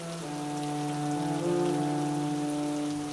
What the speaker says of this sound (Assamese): কিছুদূৰ যোৱাৰ পাছত বৰষুণ আৰু অধিক জোৰকৈ দিব ধৰিলে।